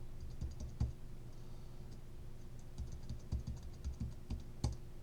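Quiet, close keystrokes tap on a computer keyboard in uneven bursts, single clicks and short runs spread across a few seconds over a faint steady background hum.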